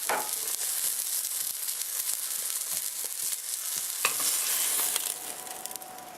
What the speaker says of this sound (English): while I saute the vegetables